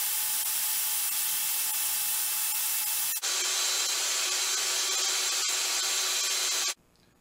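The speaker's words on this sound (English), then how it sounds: "Now I can start sanding." Rapid, steady sanding on a wooden cocktail muddler on a lathe, a loud hissing scrape close by that shifts in tone partway through, then cuts off abruptly.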